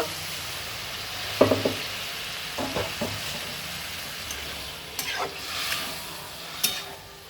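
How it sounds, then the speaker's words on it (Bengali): Prawn curry sizzles in a pan as water goes in, a soft continuous hiss with several brief scrapes and taps of stirring, fairly quiet throughout. "এবার আমি জল দিয়ে দেব। প্রথমে অল্প একটু জল দেব।"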